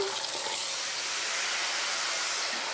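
Water poured into a hot pan to deglaze it, giving a steady loud hiss and sizzle of steam that runs unbroken and close throughout.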